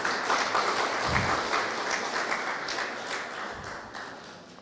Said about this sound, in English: Please, a round of applause as he makes his way on stage.